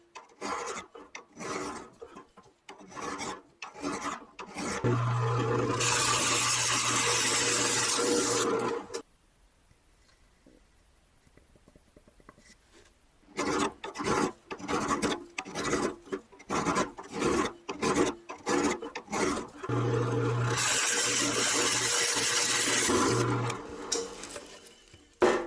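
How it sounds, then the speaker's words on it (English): A hand file works the sides of a steel Forstner bit to reduce its size, rasping close up in fast, steady strokes. Two long stretches of dense filing are separated by a quiet pause. "So I'm much better off to do it by hand, just filing each side an equal amount."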